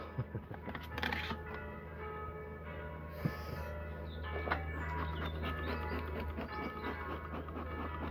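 Distant church bells ringing under a steady outdoor hum, with faint birdsong and occasional soft handling noises nearby, at a beekeeper's hives while a smoker is lit.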